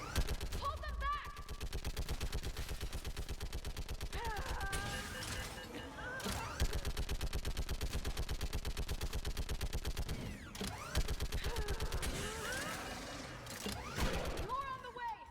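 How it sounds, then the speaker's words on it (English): Rapid automatic gunfire in the video game Mass Effect 3, a dense, steady stream of shots that goes on almost without a break and pauses only briefly, with characters' voices calling out over the firing. "Keep firing!"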